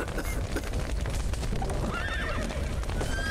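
Horse neighing with clip-clopping hooves in The Witcher 3, loud and close over steady game background noise, the whinny rising and wavering near the end.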